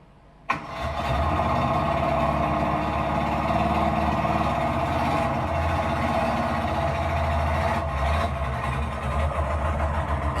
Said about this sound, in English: It sounds like open manifold on that thing.